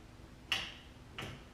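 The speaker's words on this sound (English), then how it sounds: "I hear both of the solenoids." Two sharp mechanical clicks from solenoids on a John Deere ZTrak zero-turn mower with a Kohler V-twin, about two-thirds of a second apart, ring out against a quiet background.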